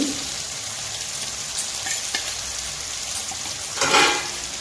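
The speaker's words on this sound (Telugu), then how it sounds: "అల్లం వెల్లుల్లి పేస్ట్ వేసేసి ఒకసారి మొత్తం కలిపేసుకుందాం" Ginger garlic paste stirred into frying carrot and tomato pieces for carrot rice, a close, steady sizzle with a few scraping strokes and a louder burst of frying near the end, no talking.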